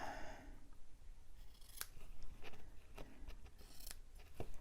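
Scissors trimming paper for a Christmas mini album, with a series of close, crisp snips and sliding cuts in an irregular rhythm over faint background noise.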